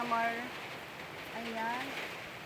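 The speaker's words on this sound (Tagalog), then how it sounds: "Bali pang 2 days na po ngayon na umuulan." Steady rain pours outdoors in Northern Samar during Typhoon Kristine, a constant broadband hiss. A person speaks over it.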